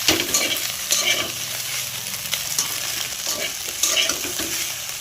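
Pasta being stirred with masala in a hot pan: loud, continuous sizzling with repeated scraping strokes of a spatula, close up and with no talking.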